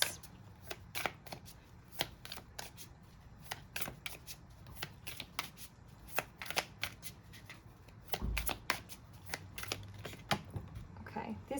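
Tarot cards are shuffled close up in a long run of crisp riffling slaps and flutters, uneven in rhythm, with a quiet voice under it.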